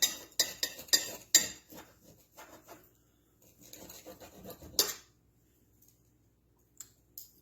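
An air-fried, parmesan-crusted steak cut open with a knife on a plate: close scraping and clicking strokes of blade and cutlery against the crisp crust and dish, in short bursts with quiet pauses between.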